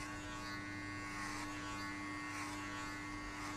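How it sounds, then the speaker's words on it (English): Electric hair clippers fitted with a number 2 guard buzz steadily during a buzz cut, a constant even hum with a faint grinding texture, heard close and alone without talk. "I will put number 2 level open and I will shave everything off."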